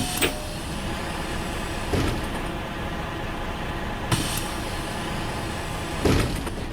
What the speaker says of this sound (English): The doors open and close completely automatically